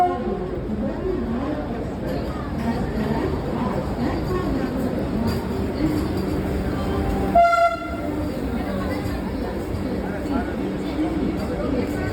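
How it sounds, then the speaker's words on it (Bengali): Darjeeling Himalayan toy train on a hill railway near Kurseong, a continuous loud rumble and rattle with one short horn toot midway, with people talking in the background. "এটা হলো টয় ট্রেনটা এখন হয় এখান থেকে Darjeeling toy train Himalayan toy train"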